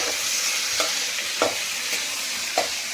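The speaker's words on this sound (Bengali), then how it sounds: "এটা ভাজা হচ্ছে, আর এখানে পমফ্রেট মাছ হচ্ছে ভাজা" Pomfret fish and pointed gourd fry together in a pan with turmeric, giving a steady crackling sizzle. Soft scraping strokes of a stirring utensil recur about every half second to second, close and clear, with no talk.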